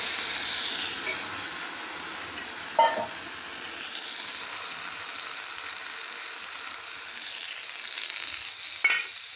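Close, continuous sizzling of flat beans frying in a pan with thinned mustard paste, broken by two brief knocks of a utensil against the pan, with no talking.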